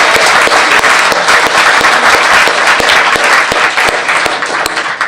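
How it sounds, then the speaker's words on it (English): Loud, sustained applause from a large audience at an eighth grade promotion ceremony fills the space with dense clapping throughout, without pause. "How about a big round of applause for all your boys and girls up on stage?"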